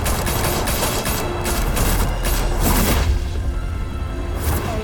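Dense, sustained gunfire from an in-game shootout in a Batman video game, with loud bursts that continue through the whole stretch and no clear pauses between them.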